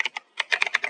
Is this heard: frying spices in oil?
no